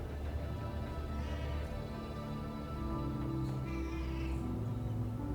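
Cat in the video game Death Stranding 2 giving a few drawn-out, wavering meows, set quietly over a dense layer of game music and ambient tones that continues throughout.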